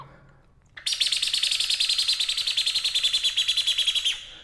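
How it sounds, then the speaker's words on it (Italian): Song thrush alarm call given when frightened by an owl: a rapid, loud, close run of harsh chattering notes, evenly repeated for about three seconds after a brief quiet start. "Poi il tordo, lo schiammazzo, cioè quando aveva paura perché vedeva la civetta."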